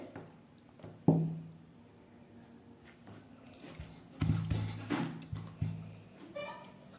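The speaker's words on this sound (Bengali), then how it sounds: "এবার আরও কিছুটা জল দিয়ে দিচ্ছি, এটা একটু পাতলা ঝোল হবে।" Water is poured into mutton curry in a pot on a home stove to thin the gravy, giving soft splashes and gurgling fill sounds in several uneven bursts, fairly quiet and close.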